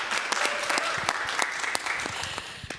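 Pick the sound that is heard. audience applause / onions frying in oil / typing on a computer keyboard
audience applause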